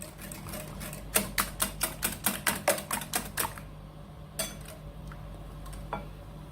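Wire whisk or spoon clicking rapidly against a bowl while stirring an egg mixture with pepper and milk for a Spanish omelette, a quick burst of about a dozen sharp taps followed by a few scattered clinks.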